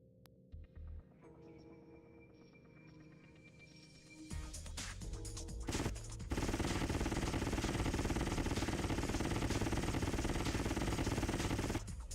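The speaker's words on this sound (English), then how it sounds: "Interesting cannon." Cannon fire in the video game G-Police starts as a quiet hum, rises in stages, then settles into a loud, sustained rapid stream of shots that runs to the end.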